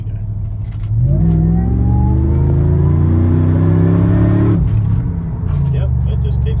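A supercharged family car fitted with a 2650 supercharger accelerates hard at full throttle, its loud, close engine note climbing steadily for several seconds before dropping at a gear change or lift-off, then pulling again.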